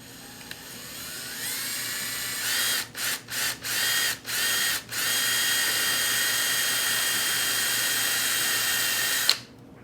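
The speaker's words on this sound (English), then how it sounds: "you just take your handy dandy drill" Power drill whining steadily as it bores into pallet wood, loud and close, with a few brief stops and restarts early on before one long continuous run that cuts off abruptly.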